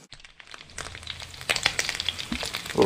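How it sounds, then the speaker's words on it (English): Pig's trotters spluttering and crackling in hot oil, a busy run of sharp pops and sizzles that grows denser and louder toward the end, with no talking over it. "now just while these are spluttering away there, as predicted"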